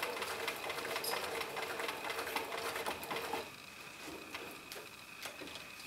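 A sewing machine runs steadily while stitching fabric for a cat-shaped body seam, a close, continuous mechanical whir with rapid ticking that briefly eases in pace partway through; no speech is heard.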